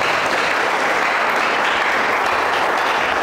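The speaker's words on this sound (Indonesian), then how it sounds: "Tepuk tangan bagi Tuhan." Church congregation applauding during a service, a steady, dense wash of clapping that stays loud and unbroken throughout.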